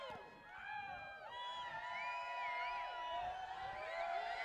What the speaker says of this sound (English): Crowd is cheering.